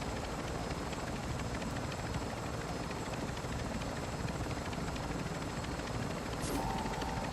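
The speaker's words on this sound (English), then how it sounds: "Oh, there's another helo there, maybe?" Helicopter rotor chopping steadily overhead in the video game DMZ, a constant broadband thrum that stays loud and even throughout with no talk over it.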